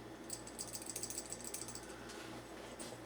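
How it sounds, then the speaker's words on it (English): A loose washer rattles inside a shaken 1950 Farberware percolator robot toy, giving quiet, quick metallic clicks in a burst through the first two seconds, then a few scattered taps against a faint steady hum. "If you shake this, I'm going to have to pump up the volume. You can hear a loose washer."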